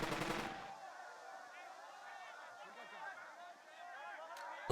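Machine gun fire in the WW2 video game Burden of Command: a short, rapid rattling burst at the start fades into quieter background battle ambience, with a sharp hit at the very end.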